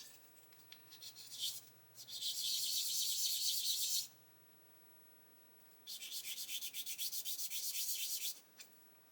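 Two sustained bouts of brisk sanding, a worn stick rubbing back and forth on a small plastic 1/24 scale model aircraft part, separated by a quiet pause.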